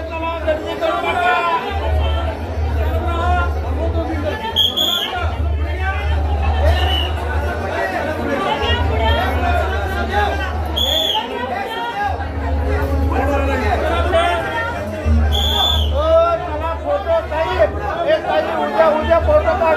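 A huge crowd of devotees at Shri Ram darshan in Sangli, loud dense chatter and hubbub all around, with a voice repeatedly calling out over the babble.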